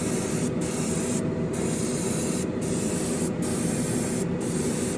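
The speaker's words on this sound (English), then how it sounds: "I've got a nice spray pattern. Paint's looking good." A steady hiss of spray paint streams from an aerosol nozzle onto a Ferrari SF90 Spider model car body, close and continuous, with a few very brief breaks in the flow.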